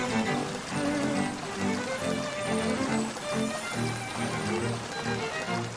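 Continuous watery splashing and sloshing in The Legend of Zelda: Link's Awakening as the character wades through water, a steady textured wash layered with game background music.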